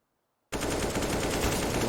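Sustained automatic weapon spray in a CS:GO professional match, bursting in abruptly after half a second of silence and continuing as a loud, dense rattle of rapid shots to the end.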